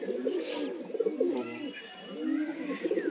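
Pigeons coo softly and repeatedly in a loft, their low rolling calls close by, with faint chirps over a quiet background.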